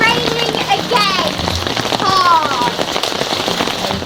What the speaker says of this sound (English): Today's weather report, it's raining again.